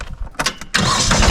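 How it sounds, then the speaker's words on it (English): Kubota B2301 compact tractor with a snow blower attached, its engine cranking briefly in stuttering bursts before catching and running at a loud, steady close-up roar. "So we'll just start up the tractor fast."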